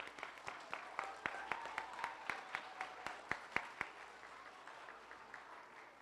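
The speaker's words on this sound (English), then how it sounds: "Let's give them a big old round of applause." Audience at an elementary school honor roll assembly clapping for students, a faint, fairly sparse round of applause with distinct individual claps that thins out toward the end.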